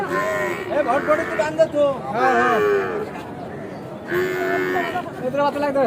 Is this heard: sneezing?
no